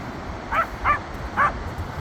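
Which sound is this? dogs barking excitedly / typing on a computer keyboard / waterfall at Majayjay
dogs barking excitedly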